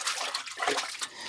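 A hand scooping clean water from a well on a farm, a brief close splashing and sloshing lasting just over a second.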